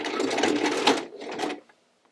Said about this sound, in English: So now I'm going to come back and do a wide zigzag stitch. So I set my machine on zigzag